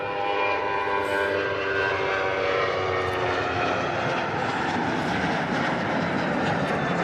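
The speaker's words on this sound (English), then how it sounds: "That was Ryanair flight 3088 heading off to Gothenburg, Sweden." A Ryanair airliner departs Manchester Airport for Gothenburg, Sweden, its jet engines producing a loud, steady roar that fills the whole stretch without pause and without voices.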